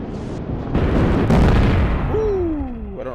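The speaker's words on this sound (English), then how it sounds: "We might have collided in midair." A midair collision and crash of an F-14 Tomcat in the SimplePlanes VR game, a loud rumbling explosion swelling and fading over a few seconds, followed by a falling whistle-like tone.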